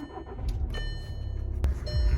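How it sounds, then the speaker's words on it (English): A car engine cranks and catches about two-thirds of the way through, followed by a low, steady idle rumble close by, with faint cabin clicks and rustles before it. "let's turn on the car now"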